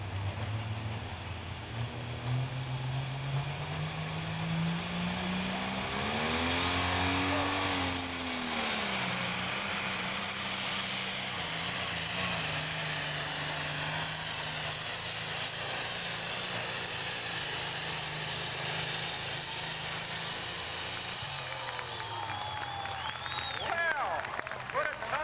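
An International diesel super stock pulling tractor makes a long, loud, sustained roar at an outdoor tractor pull. The engine pitch swoops up and down mid-run before dropping off near the end, and a crowd and announcer are heard faintly.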